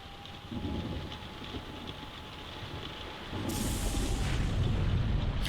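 Rain and thunder in the video game Yakuza Kiwami: steady rainfall hisses throughout, and a rumbling thunder roll swells in midway, growing louder toward the end.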